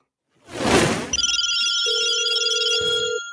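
A telephone rings in a podcast studio for a listener call-in: a short rustle, then a bright electronic ring tone with a steady pulsing trill, loud and close, with no talk over it.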